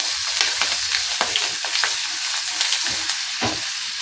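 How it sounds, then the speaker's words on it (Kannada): Mustard seeds, asafoetida and dry red chillies crackling in hot oil for a hotel-style idli sambar tempering, a steady close sizzle broken by sharp irregular pops and spits, with no voices. "ಸಾಸಿವೆ ಚಟಪಟ ಅಂದಿದೆ ಒಣಮೆಣಸಿಕಾಯಿ ಮಗ್ಗಿದೆ"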